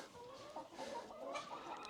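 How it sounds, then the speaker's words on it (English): A flock of chickens in a pen in a residential area of Deqing, China, soft overlapping clucks and low warbling calls, several birds close by at moderate volume with no talking. "wow, look at all the chickens in here."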